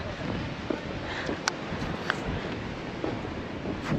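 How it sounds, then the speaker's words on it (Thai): Strong wind in the Gudauri mountains of Georgia, a rough continuous low rumble of wind buffeting the microphone with a few brief gusty bumps. "ไม่รู้ได้ยินเสียงไหมเพราะว่าลมแรงมาก"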